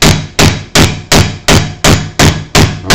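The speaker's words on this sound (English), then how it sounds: "And you just start nailing it through, and you can see that it's pulling it up here" A hammer drives a nail through wood in a workshop with eight loud, evenly spaced blows, each a sharp crack with a brief ring, and no talk.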